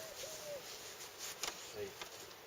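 Bees buzz faintly and steadily inside a wooden top bar hive, a soft continuous drone with a few brief louder passes close by.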